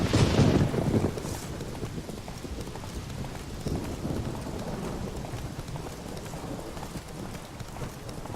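Trotting hooves of the horse Roach in the video game The Witcher 3, a steady even clip-clop close by over soft outdoor ambience, louder burst at the start, no talk.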